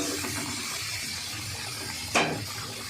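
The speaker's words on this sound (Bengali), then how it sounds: "এবার পোস্তের বাটির ধোয়ায় অল্প করে একটু জল দেবো" Water splashes into a bowl that held ground poppy seed paste for a rohu posto dish: a steady soft wash of pouring, ending with a brief, sharper splash near the end. No one speaks.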